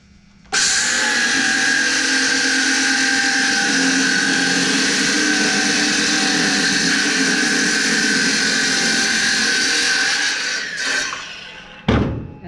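A circular saw cuts a clamped wooden board between two sawhorses, a sudden loud, steady whining cut lasting about ten seconds, then the blade winds down and a short clatter follows.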